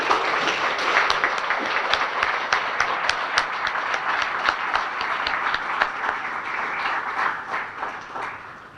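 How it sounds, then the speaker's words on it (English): A crowd at a chamber of commerce dinner gives a sustained, dense round of applause that stays steady and loud throughout, then begins to fade at the end. "please stand so that we can honor you with a collective round of applause"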